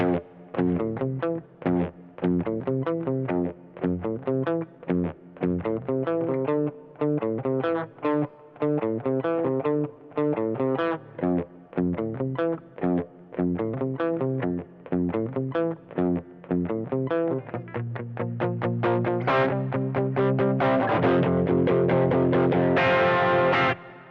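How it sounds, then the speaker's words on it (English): Overdriven electric guitar playing a steady run of chords and riffs, warm and crunchy, growing thicker and brighter near the end. "So I'm looking for more overdrive than I am distortion."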